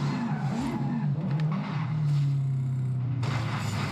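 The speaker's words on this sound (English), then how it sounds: "the car has the tendency of spinning out of control and getting off the road" A video game race car spins out of control with a sustained tyre skid and engine drone over about four seconds, ending in a sharper scrape.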